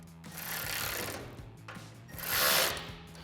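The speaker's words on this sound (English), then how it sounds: "Now we can take our 10mm wrench and our 4mm Allen head and tighten that up." A 10mm wrench and 4mm Allen key tighten a bolt on an aluminum roof rack for a Toyota Tacoma, giving faint scraping, ratcheting bursts in two separate pulls, quiet and close.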